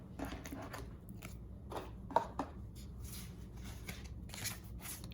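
A tarot card deck, the Smith-Waite Centennial edition with smooth-finished cards, being shuffled by hand, giving soft, steady riffling and sliding rustles with a few sharper flicks, close to the listener and otherwise quiet.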